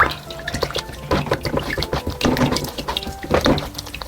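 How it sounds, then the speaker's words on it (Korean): Rice-flour porridge for baechu water kimchi is poured and strained through a fine sieve, making continuous close splashing and trickling with uneven gurgling pulses. "이건 풀국 1리터입니다. 또 고망에다 이렇게 걸러주시고요."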